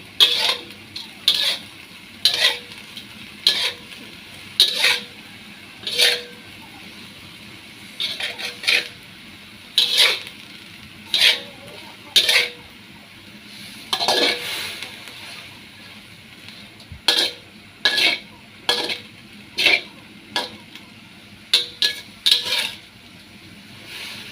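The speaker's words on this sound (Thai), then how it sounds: "คั่วกรอบๆ เดี๋ยวเรารอให้น้ำแห้งก่อนนะคะ" Mole crickets being dry-roasted in a pan, with a steady series of sharp metallic scrapes and clinks as a spatula turns them, close, in irregular bursts over a faint background.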